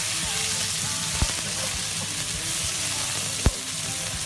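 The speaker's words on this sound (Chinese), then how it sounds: "热锅放油，下入大蒜干辣椒爆香，再倒入茄子，大火煸炒" Eggplant with garlic and dried chili stir-fries in hot oil over high heat, a dense, steady sizzle close by with a couple of sharp clicks from the spatula.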